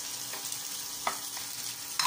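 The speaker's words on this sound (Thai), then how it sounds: "แล้วเอาผักลงไปผัดนะคะ มะเขือเทศกับ หอมใหญ่นะคะ" Tomato and onion stir-fried with egg in a pan for Thai railway-style red sauce fried rice: a steady, close sizzle with occasional scraping stirs of the spatula, no voices.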